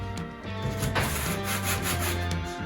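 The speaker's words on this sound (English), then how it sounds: "It's nice to have another set of hands over there sanding." Steady, close abrasive rubbing of sanding metal on a 1974 VW Thing, a continuous gritty scraping with slight rhythmic strokes and no talking.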